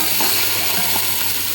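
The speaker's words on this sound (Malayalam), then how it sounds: "നമ്മുടെ ഉള്ളിയൊക്കെ ഇഞ്ചിയൊക്കെ വാടിയതിന് ശേഷം നമ്മൾ അരി വെച്ച വെജിറ്റബിൾ എല്ലാം ഇട്ട് കൊടുക്കുക" Onions and ginger already softened, vegetables and rice tossed into the hot pan for an Arab-style vegetable biryani, giving a loud, steady, close sizzle with faint stirring scrapes and no talking.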